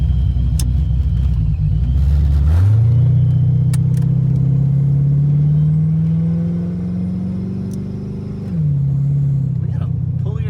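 A loud supercharged 306 engine with a Vortech T-Trim supercharger at 12 lbs boost and an AOD automatic transmission drones steadily while driving. It rises in pitch as it accelerates, then drops back as it shifts, with constant low rumble throughout.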